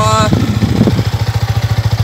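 A Yamaha R15 V3 motorcycle engine idles with an even, low pulsing throb close by, and a voice briefly talks over its start.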